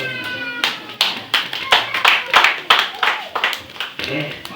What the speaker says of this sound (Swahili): Pikia Yesu makofi